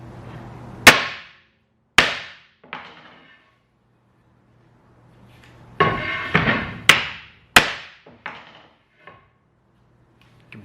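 A hammer strikes a block of dense red padauk exotic wood, giving sharp, loud knocks in an uneven series: three spaced hits, a brief rustle, then a quicker cluster of raps that fade to lighter taps.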